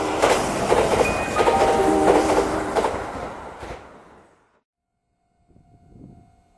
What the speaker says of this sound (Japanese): 2番線を電車が通過します。